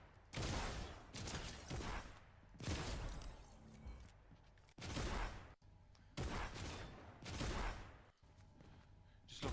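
Fortnite gunfire plays as very faint, repeated bursts of rapid shots separated by brief gaps.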